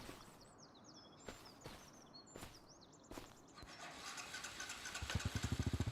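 Quad bike restarting in the Farming Simulator video game: scattered clicks and brief cranking bursts, then the engine catches into a rapid, rhythmic putter that grows louder toward the end.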